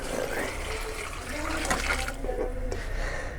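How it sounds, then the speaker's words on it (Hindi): Four glasses of water poured into a pot of ghee and masala for chicken and pea pulao, a steady close gushing and splashing stream lasting a few seconds. "अब पानी ऐड करते हैं इसमें, 4 गिलास है ये पानी।"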